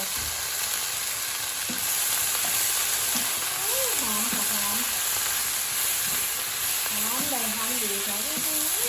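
Sesbania flowers stir-fried with shrimp paste chili sauce in a hot pan, giving a loud, continuous sizzle and hiss with occasional scraping stirs, while a voice is heard faintly under the frying.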